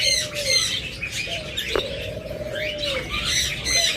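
A pair of creamino lovebirds chirps close by in quick, repeated bright calls and short tweets, with a sharp click and a busy background chatter underneath.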